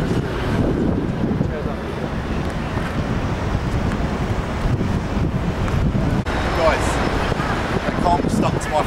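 Wind buffets a microphone outdoors at a London protest, a steady broadband rumble and roar that gusts continuously, with faint voices in the background.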